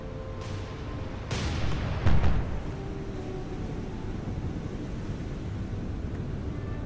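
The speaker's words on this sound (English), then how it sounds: "Just give them full volleys with our main guns" Naval main guns fire full volleys in the War on the Sea naval combat game: two heavy booming bursts land close together early on, then a steady wash of wind and sea noise carries on alone.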